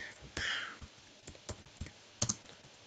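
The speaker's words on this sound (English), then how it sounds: "let me just type it in the chat" Computer keyboard typing into Minecraft chat, a handful of sparse, separated key clicks and taps with short gaps between them, fairly close and moderately loud, no talking.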